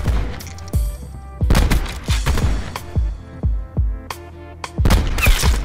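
Gunfire rings out during an ambush in the video game Blackout: a rapid series of loud, sharp shots in irregular bursts, some close together and others spaced apart, with brief gaps between volleys.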